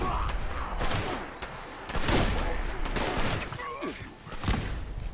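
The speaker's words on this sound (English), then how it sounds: "Good old Scorched Mothman hovers down to get 3 shot because the Gauss Shotgun is just that good" A Gauss shotgun fires on a Scorched Mothman in a video game. Several heavy, booming blasts come a second or so apart over a continuous rumbling game background.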